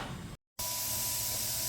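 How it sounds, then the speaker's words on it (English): Thinned primer paint sprayed from a spray gun, a steady broadband hiss that cuts out briefly and then resumes, close and loud with no talking. "She is spraying primer."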